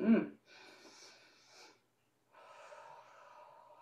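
Slow, breathy inhales through the nose during a yoga session, soft airy breaths separated by short pauses and heard up close.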